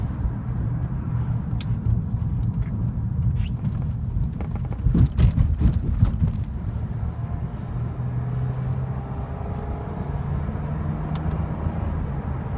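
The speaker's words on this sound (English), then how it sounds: "put it in the sport mode, it automatically downshifts to 4th gear" A 2008 Lexus IS250 in sport mode, downshifting on its own while braking hard: a steady interior engine and road drone with a brief louder rev surge midway, then settling back to a low hum.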